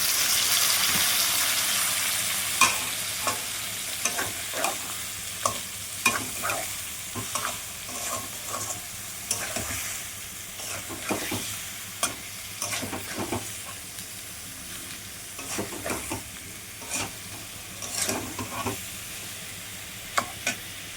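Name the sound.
potatoes frying and being stirred with ginger, chilli and spices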